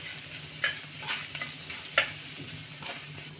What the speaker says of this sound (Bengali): আদা আর রসুনটাকে আবার আমি একটু হালকা করে ভেজে নেব।